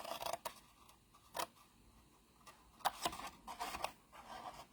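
Scissors snip through folded paper box flaps in a few short, crisp cuts with pauses between, close and fairly quiet, with no talking.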